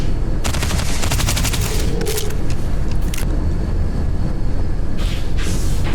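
Rapid automatic gunfire at a shooting range in Starfield, a dense, loud, sustained burst that runs almost without a break, with a few sharper single reports mixed in.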